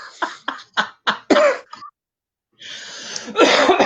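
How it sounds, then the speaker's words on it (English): A run of five sharp coughs in quick rhythm indoors, close to the microphone, followed by a pause and then a longer rough throat-clearing rasp. "just get into the habit of coughing like that"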